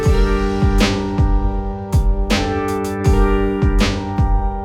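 A hip-hop beat built from deep, booming drums and bright orchestral cymbals with no bass line, the kicks landing in a steady groove and the cymbal crashes washing over sustained orchestral tones.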